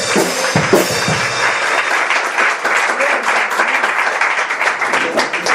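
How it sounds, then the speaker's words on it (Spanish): A church congregation gives strong applause during a Spanish-language sermon on prayer. The clapping is loud and sustained throughout, with a voice briefly audible at the start. "Dale un fuerte aplauso al Señor."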